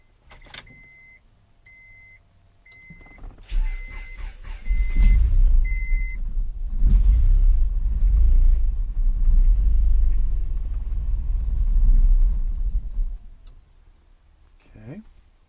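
A turbocharged Honda H22 engine fitted in a 1000cc cranks over with a low rumbling churn for several seconds, preceded by a few rhythmic beeps and clicks, with a person talking nearby.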